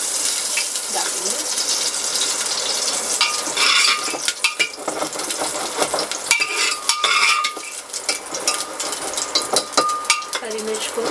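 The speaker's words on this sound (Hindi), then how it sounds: "अब हम इसमें कटी हुई हरी मिर्च डालेंगे।" Chopped green chillies hit a hot pan and fry for sambhar in a pressure-cooker recipe, giving a steady close sizzle with occasional stirring scrapes and clinks, no one talking.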